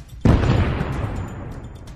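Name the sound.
dynamite stick explosion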